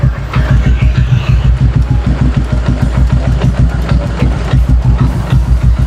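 A 1984 Binter Merzy motorcycle engine runs loud and close, with a fast, even, pulsing idle that thumps steadily throughout and has no talk over it.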